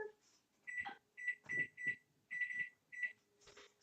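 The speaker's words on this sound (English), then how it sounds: "Let me set my timer." A kitchen oven timer is set: a run of short, bright electronic beeps in small clusters, fairly close and clear over a quiet room hum, with no talking.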